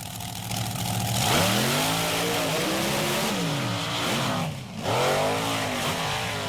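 Grave Digger and Bigfoot Ford monster trucks launch off the line together, their big engines revving loudly with rising and falling pitch sweeps, close and continuous, a brief dip before they roar again.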